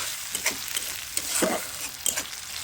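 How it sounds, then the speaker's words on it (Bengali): Spice paste sautéing in a pan for elephant foot yam curry, a steady close sizzle broken by a few scraping stirs of the spatula against the pan, no voices. "এটা এখন খুব ভালো করে একটু কষিয়ে নিব"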